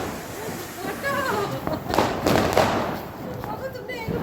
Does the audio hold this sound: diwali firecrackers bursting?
yes